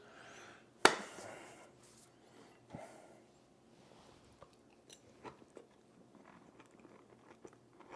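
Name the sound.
crunchy insect being chewed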